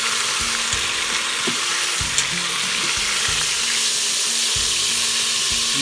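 A beef pot roast browns in a hot pot, giving a loud, steady sizzle and crackle of frying meat that runs without pause, with a few clinks of a utensil against the pot.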